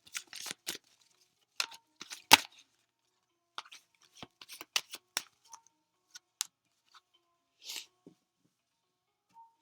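Tarot cards are shuffled and handled in quiet, close, irregular bursts of crisp snaps and riffles separated by brief silences.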